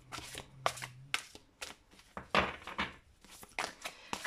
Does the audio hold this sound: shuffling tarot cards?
yes